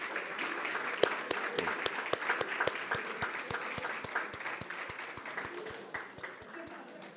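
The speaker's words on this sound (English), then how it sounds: "How about another round of applause for the next group of athletes?" A school board meeting audience applauds a high school athletics group, a sustained steady round of clapping from a roomful of people, fairly close and even, fading slightly toward the end.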